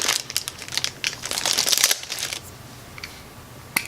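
Plastic wrapping crinkles and rustles around a Lucid Optics L7 1-6x24 rifle scope, a run of close, irregular crackling bursts that thins out, ending with one sharp crinkle.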